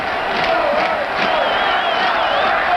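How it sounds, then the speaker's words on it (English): Stadium crowd at a 1986 CFL West Semi-Final football game between Calgary and Edmonton, a loud, dense, continuous roar of cheering and shouting throughout. "the crowd is really getting involved with the game now"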